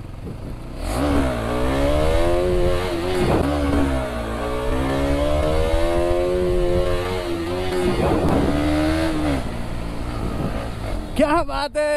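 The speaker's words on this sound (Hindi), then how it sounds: "क्या बोलते हो भाई, एक विली हो जाए क्या" A KTM Duke 200 BS6 motorcycle revs hard while pulling a wheelie, its engine note rising and falling in long sweeping pulls across several throttle bursts, loud and near, with a brief clatter at the end.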